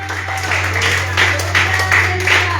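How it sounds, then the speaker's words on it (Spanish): A church congregation claps briefly and loudly in a steady patter, with a low hum running underneath. "Denle un fuerte aplauso al Rey"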